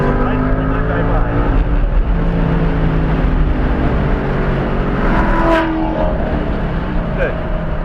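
A race car engine drones loudly on the Road America circuit as the driver gets back on the throttle, a steady in-car roar rising in pitch, with a coach's voice talking over it.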